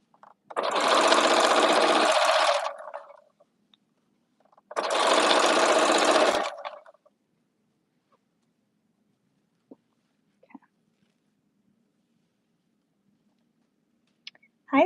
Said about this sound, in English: We're just sewing some blankets today.